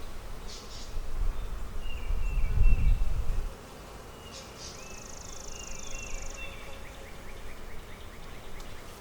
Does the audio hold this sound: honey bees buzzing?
yes